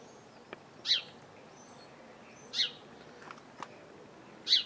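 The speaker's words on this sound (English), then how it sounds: "And there's a bird certainly objecting to my presence, that's for sure." A bird outdoors gives short, sharp calls in protest at a person nearby: three distinct spaced calls over a quiet background, moderately faint.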